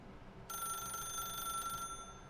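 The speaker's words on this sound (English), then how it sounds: "No, I'm gonna let it ring." A telephone rings in the video game The Stanley Parable, a single sustained electronic bell tone starting after a short pause and holding steadily for over a second before cutting off, heard alone with no talking.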